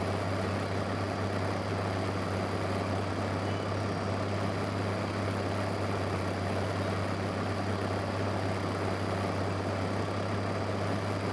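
A tractor engine in Farming Simulator 15, on a South West Norway farm map during cutting and windrowing work, drones steadily and evenly at a constant loud level over a low hum, with no talking.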